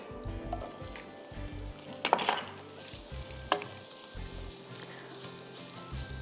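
Dal and boiled potato mixture sautéing in a pan, with a steady sizzle, stirring scrapes and a couple of sharp clatters of the utensil against the pan, close and moderately loud.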